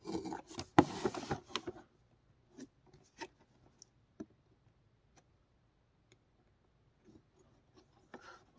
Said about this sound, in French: On va l'ouvrir, la grosse bête.